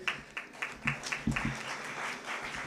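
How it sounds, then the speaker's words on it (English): A crowd applauding at a National Youth Day gathering: a few scattered claps build quickly into a steady patter of moderate, fairly distant clapping that keeps going without any voices. "And a big round of applause."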